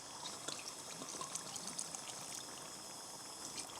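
White wine poured for a bolognese sauce, a steady splashing trickle of liquid running continuously for a few seconds, close and fairly quiet, with no talk.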